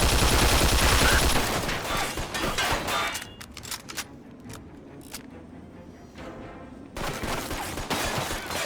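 Gunfire erupts in the video game Mafia 2, a dense loud fusillade of shots that thins into scattered single cracks and distant pops before another heavy burst resumes, with no talking.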